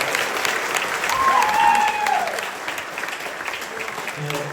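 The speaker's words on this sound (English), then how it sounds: "so just a big round of applause for yourself" Audience applause at a band performance in Tubbercurry, a broad wash of clapping and crowd noise that swells in the middle, with a brief voice or whistle and some talk under it.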